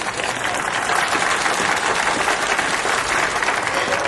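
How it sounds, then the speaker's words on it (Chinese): An audience applauds a competition winner: dense, loud, sustained clapping from a large crowd fills the whole stretch, with a hint of voices underneath. "本次比赛获得第1名的陆回同学，大家掌声欢迎！"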